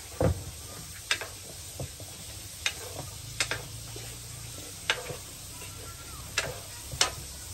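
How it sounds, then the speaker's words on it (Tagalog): A mixture is stirred in a frying pan, giving a quiet background sizzle broken by a series of sharp clicks and scrapes as the utensil knocks against the pan at irregular intervals. "Kuya Biton, stir! Stir it, stir it."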